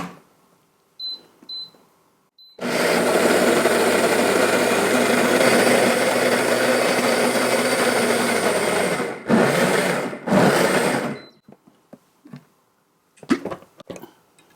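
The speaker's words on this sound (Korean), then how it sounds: "물을 한 컵 넣고 갈아주세요." Countertop blender grinding soaked mung beans with a cup of water, a loud steady whirring roar for about seven seconds, then two shorter bursts, with quiet kitchen clatter before and after.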